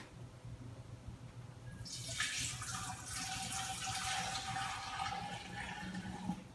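Star San sanitizer is poured into an Instant Pot, making a steady splashing, gurgling rush of liquid that starts about two seconds in and continues close up to the end.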